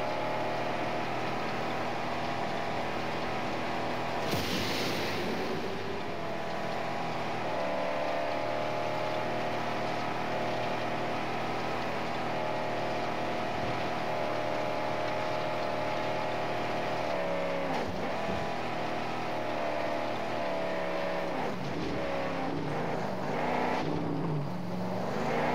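Loud, steady engine roar of a car in the video game Mad Max, its exhaust burning, droning continuously with shifting pitch and a few brief bursts, heard alone without speech.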